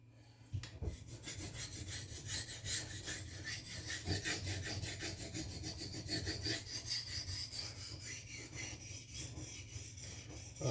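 A knife blade is drawn repeatedly across a sharpening plate, making a steady, close rasping scrape in rhythmic strokes that continue without pause and with no voices.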